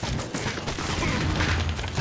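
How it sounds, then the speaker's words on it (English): Fireworks fired from a twin bow burst in Minecraft Dungeons, a dense, continuous crackling barrage of booms and pops that stays loud throughout. "I just did 2 fireworks at once!"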